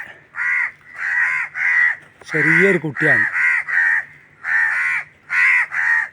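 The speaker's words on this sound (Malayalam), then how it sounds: "അതിൻ്റെ പാരൻസൊക്കെ ഭയങ്കര ഒച്ച വിളിയൊക്കെ ഇടുന്നുണ്ട്." Loud, repeated cawing of adult crows close by in short rhythmic bursts near a fallen crow chick, with a brief voice speaking in the middle.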